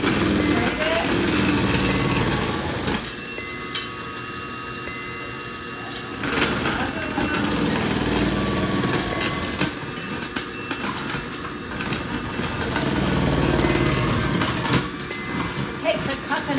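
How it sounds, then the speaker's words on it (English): An electric grater shreds carrots with a continuous, close motor whir and rough grinding that swells and eases as carrots are fed in. "So I put my carrot in. I'm going to grate it."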